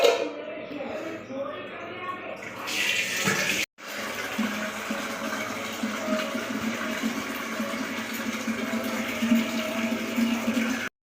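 Water runs steadily into a container, a constant rushing flow that breaks off briefly and resumes, with muffled noises at the start.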